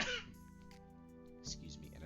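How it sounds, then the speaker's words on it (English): Coughing and throat clearing from someone with a chest infection, a short harsh burst at the start and another near the end, heard close over a steady background tone. "excuse me in advance for all the coughing"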